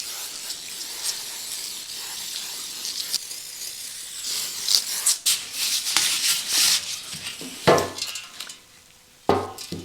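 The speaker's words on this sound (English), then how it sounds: "I'm going to oil it up to protect it from any further rust." Oil sprayed onto a bare, rusting motorcycle swingarm from a derelict Goldwing, a steady close hiss with several louder bursts and brief metallic handling sounds between.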